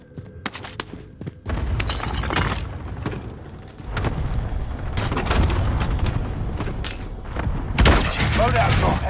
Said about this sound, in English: Cluster strike is active.